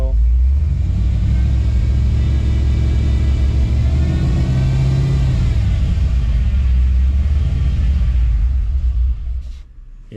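A 6.0 engine-swapped OBS Ford truck revs hard at throttle with a loud, close, sustained rumbling roar and rising engine whine, then drops off sharply near the end.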